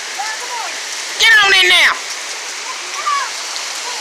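Steady heavy rain pours down during a tornado storm, a constant hiss heard close by throughout, with a voice briefly calling out over it and faint talk in the background.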